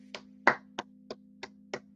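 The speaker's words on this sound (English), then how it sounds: "I give him my own round of applause" Six separate hand claps ring out at a slow, slightly uneven pace, close and crisp over a low steady electrical hum, with no voices.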